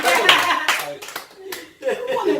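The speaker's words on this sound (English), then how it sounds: "Clap for us!" A few people clap hands in a casual studio setting, scattered claps under excited talk and laughter, fairly close and loud.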